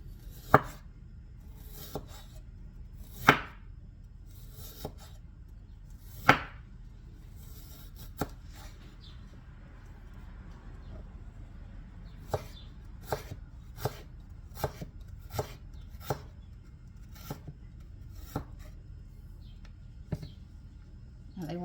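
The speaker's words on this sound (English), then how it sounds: "Now they want this coarsely chopped." A knife chops vegetables on a cutting board for a steak salad with carrot-ginger vinaigrette: sharp, close wooden knocks in uneven bursts, some spaced out and others in quick runs, over a quiet room.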